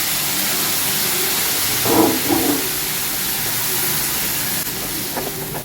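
Water poured into a hot pan of tomatoes and spice erupts in a loud, steady sizzling hiss that holds for several seconds, with a few brief clinks and stirring knocks partway through.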